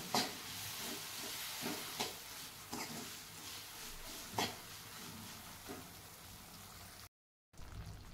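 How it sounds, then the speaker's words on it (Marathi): Half a bowl of jaggery being stirred into a golden-brown roasted mixture, giving soft scraping and sizzling with irregular clinks of the spoon against the pan, close and fairly quiet, with a brief dropout near the end. "आता यामध्येच आपण टाकून घेऊयात अर्धी वाटी गूळ आणि हे मिक्स करून घेऊया।"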